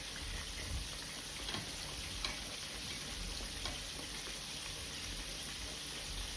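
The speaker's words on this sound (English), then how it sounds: "I'm just gonna leave it alone and let it fry up and let it do its thing" Pieces of fish frying in hot oil, a steady dense crackling sizzle with occasional louder pops, close and continuous without talk.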